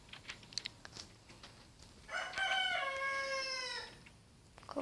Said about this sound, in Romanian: Cocoșii cântau.